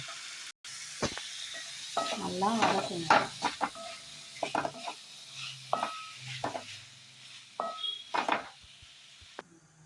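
Vegetables, including chopped chayote, sizzle and get stirred in a pan, with scraping and clinking of a spatula, plus a brief bubbling burst early on.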